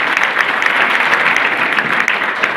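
A hall audience applauds honoured women at a Sindhi community women's-empowerment award ceremony, with dense, loud, continuous clapping throughout.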